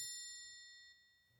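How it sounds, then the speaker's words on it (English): A bright bell ding rings out once and its clear metallic tone decays slowly over about a second and a half, with no other sound around it. "let's give a double bell for that"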